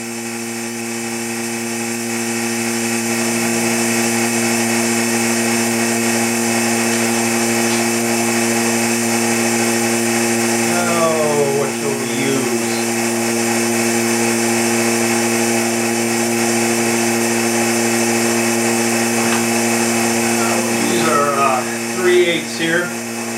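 A wood lathe spinning a 14-inch bowl while the bottom tenon is turned off, a steady motor hum with tonal whine and intermittent scraping bursts of the tool cutting wood.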